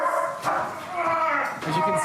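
A police dog gives a few short barks and yips at close range during a handler training demonstration, mixed in with people talking.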